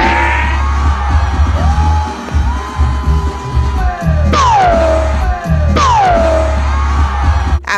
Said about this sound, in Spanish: tal fue la sorpresa y los gritos de emoción de algunos por verlo tan cerca